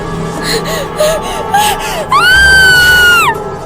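Two girls scream and cry in fear, starting with short gasping sobs and whimpers and rising into a long, loud, high-pitched scream before breaking off.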